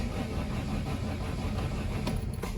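A 1969 Renault R16 engine runs steadily at a rough idle, close and fairly loud, a continuous low mechanical drone with a couple of brief sharper clicks near the end and no talking.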